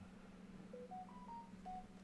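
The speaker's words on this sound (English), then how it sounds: "Forgot to put my phone on silent." A mobile phone left off silent sounds a faint short run of electronic tones, five rising then falling beeps in quick succession over a steady low hum.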